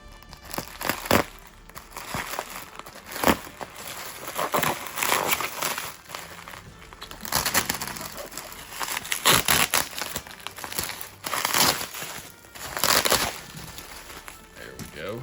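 HO scale model train packaging being cut open crinkles and crunches up close, in irregular bursts of plastic and cardboard rustling with short pauses between.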